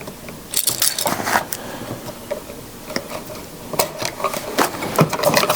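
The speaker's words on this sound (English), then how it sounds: "take your strippers and strip to that length. Strip all your wires that way." Wire strippers bite and pull insulation off electrical wires for an outlet replacement, giving a series of close, irregular metallic clicks and scraping snips with brief pauses between strokes.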